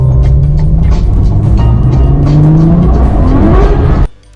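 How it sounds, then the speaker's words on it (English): A Ferrari 812 loses control: a loud engine roars and tires squeal in rising, skidding tones. Then comes an abrupt cutoff as it crashes into the side of a bridge. "He lost control and slammed into the side of a bridge."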